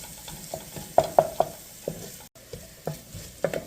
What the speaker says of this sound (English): There was enough fat from the sausages. We can use that. And you want to just stir it around and give it a minute or two till it's softened.